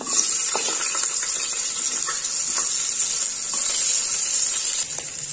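Chopped onion frying in hot oil inside a pressure cooker, a dense, even sizzle that runs throughout with scattered small pops and light stirring, no speech.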